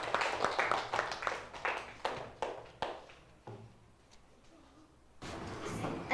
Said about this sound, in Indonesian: Okay, tepuk tangan kat mereka.